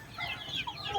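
Free-range chickens clucking steadily at a roadside farm plot, several birds overlapping in a busy, close cackle with a faint rooster-like call, no voices over it.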